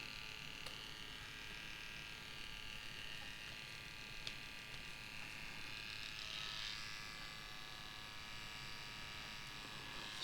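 A Yilong F3 adjustable tattoo pen runs at a 4.2 mm stroke, giving a steady, faint electric buzz with no pauses and no voices.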